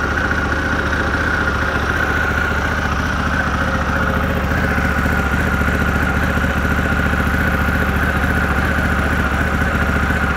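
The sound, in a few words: Harley-Davidson Pan America ST engine idling high on cold start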